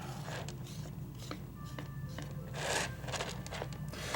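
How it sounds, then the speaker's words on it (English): A thin rib scrapes and blends a clay coil on a small coil vase, producing soft irregular rasping strokes up close over a low background hum. "I'm just going to now scrape and blend that coil. I'm going to use the thinner part of the rib."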